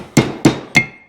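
Hammer tapping a bearing seal into place on a car suspension: three sharp, close, evenly spaced metallic knocks, each ringing briefly before fading.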